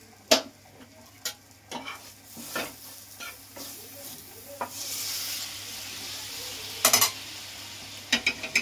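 Lukewarm water poured into a hot, sizzling pan bursts into a broad steamy hiss midway, amid scattered clinks and scraping stirs of a utensil against the pan.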